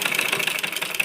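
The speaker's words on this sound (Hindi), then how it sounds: "अब देखिए इस तरह से हमने इसमें सिलाई लगा दी।" An electric sewing machine stitches a men's kurta, giving a brief, close, steady motor whir with a rapid rhythmic needle chatter.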